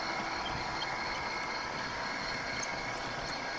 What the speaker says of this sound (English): you can probably hear a little bit of the wheel squeaking going on there in the background